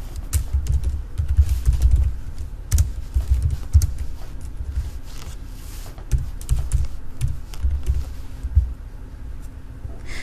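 Steady typing on a computer keyboard as descriptions are entered for manual bank statement processing, a continuous close clatter of keystrokes with brief gaps and no voices.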